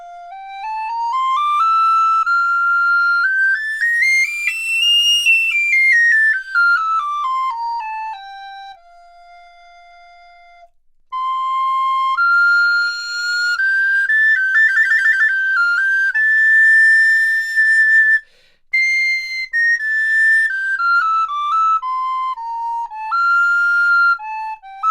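A Moeck Amaranth recorder made of purpleheart wood plays a clear, sweet solo melody of rising and falling held notes, close and bright, with a brief pause midway and no talking.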